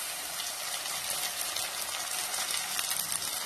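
Two ground tomatoes are sautéed with onions in a pan for a Kerala-style chickpea curry, producing a steady, fairly close sizzling hiss with no talk.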